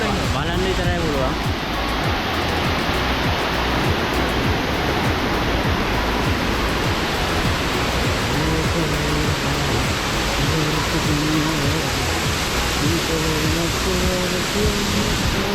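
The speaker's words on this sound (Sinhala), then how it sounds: "අපි දැන් ඉන්නේ බේකස් ඇල්ල ගාව" Baker's Falls, a waterfall in Sri Lanka, roars as a dense, unbroken wash of falling water, loud and close, while voices talk faintly underneath at the start.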